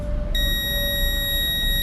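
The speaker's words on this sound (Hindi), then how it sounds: "आ रहा बीप, आ रहा है सर।" A multimeter on continuity test gives a steady electronic beep while its probes touch a coil during a phone light repair; the tone starts sharply and holds without a break, close and clear, with no talking over it.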